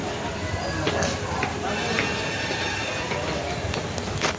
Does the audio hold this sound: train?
yes